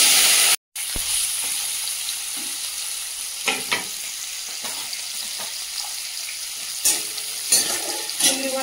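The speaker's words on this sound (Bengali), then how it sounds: "একটা তেজপাতা, কেটে রাখা চিংড়ি মাছগুলো দিয়ে দেবো।" Chopped prawns sizzling in hot oil with a bay leaf and a little black cumin, a loud steady crackle after a brief dropout, with intermittent stirring clicks and spatters.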